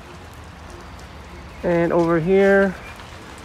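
Rain falls steadily at an outdoor zoo in Copenhagen, a soft continuous patter behind a person who speaks briefly over it.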